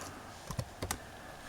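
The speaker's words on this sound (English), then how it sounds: "If we press the Windows key and R and enter CMD for the command line" A few quick key presses on a computer keyboard at a Windows XP machine, two pairs of faint close clicks in quiet room tone.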